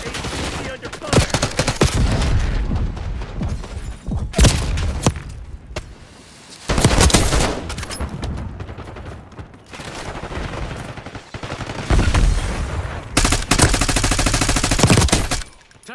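Heavy gunfire from Call of Duty: Black Ops 6 multiplayer, with loud, dense bursts of automatic fire and booming impacts in repeated waves, close and continuous with short lulls between.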